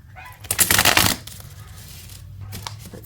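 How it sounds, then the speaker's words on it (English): Tarot cards being shuffled, a quick burst of crisp riffling and flapping for about half a second, then softer handling noises and a faint shuffle near the end, close up and fairly quiet. "One more shuffle and then we'll pick 3 cards from the middle."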